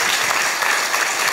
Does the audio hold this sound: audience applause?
yes